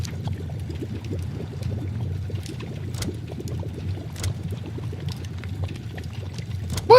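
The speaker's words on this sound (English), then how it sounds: "I'm tired of that bubbling noise." Continuous low bubbling water from a top-down video game, a steady churning murmur with faint scattered clicks, moderately quiet and alone with no talk over it.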